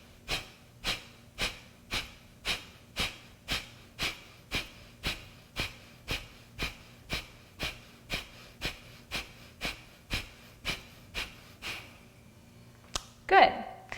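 Yoga breathing exercise done through the nose, a rhythmic series of about twenty short, sharp exhalations evenly spaced around half a second apart, close and clear, ending with a louder final breath.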